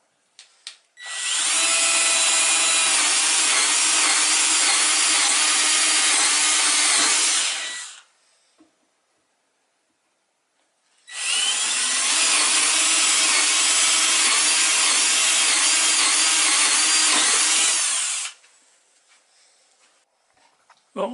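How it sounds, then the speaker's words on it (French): An electric jigsaw cutting wood for a homemade model boat; two long, loud, steady runs of buzzing sawing, each about seven seconds, separated by a short pause, with no talking. "tu vas faire les 4 trous pour pouvoir passer la scie sauteuse"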